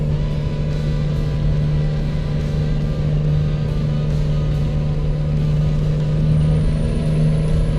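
Heavy trucks rumble past in the American Truck Simulator video game: a loud, continuous low engine drone with faint hissing air-brake bursts recurring over it, and a thin rising whine near the end.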